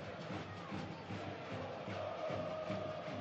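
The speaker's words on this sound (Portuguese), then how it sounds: "o torcedor aplaudiu" Football stadium crowd at a 2011 Brazilian league match between São Paulo and Coritiba, a steady broad roar of applause and cheering from distant massed fans, continuous and even throughout.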